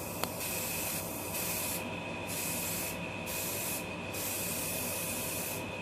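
Steady hiss of Plasti Dip spraying from an aerosol can onto a car's brake parts, continuous and close with slight pulsing between passes, no talk.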